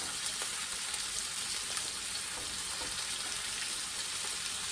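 Pork sausage frying in a hot cast iron skillet in grease, a quiet, even hiss of sizzling fat with faint pops throughout, no voices.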